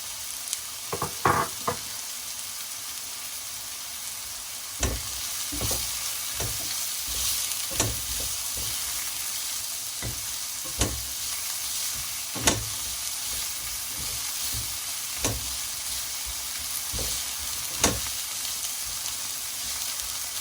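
Spring onions sautéing in a pan for an Afghani omelette with potatoes and tomatoes, a steady sizzle broken by sharp, regular scrapes and knocks of a spatula stirring through the pan, close and alone with no voices.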